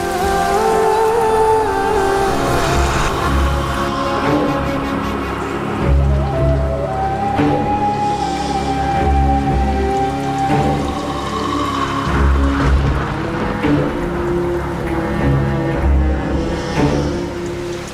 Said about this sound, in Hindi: ये तो तेज बारिश शुरू हो गई, चल बारिश का मजा लेते हैं।